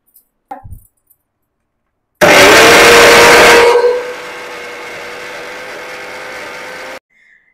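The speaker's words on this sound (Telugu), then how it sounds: "దాన్ని ఇప్పుడు మనం మిక్సీ జార్లో వేసుకొని పేస్ట్ చేసుకోవాలి" A mixer grinder blends soaked cashews into a paste, giving a sudden loud whine that drops to a steadier, lower hum after a couple of seconds and then cuts off, with a few faint knocks before it starts.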